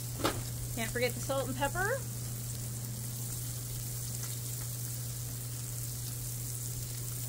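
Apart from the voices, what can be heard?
potatoes sizzling on a Blackstone griddle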